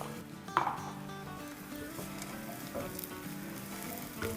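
Masala sizzling with potatoes in a pan for spicy Nepali-style aloo, a continuous close frying hiss with a sharper burst early on and faint stirring, under soft background music.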